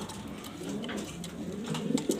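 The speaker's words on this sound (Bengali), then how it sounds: "এটা নর কবুতর, এই যে দেখছেন ডিমে বসে আছে" A male pigeon sitting on eggs in a loft coos in low, repeated throaty calls, rising in loudness toward the end of the short stretch, close by with no talk.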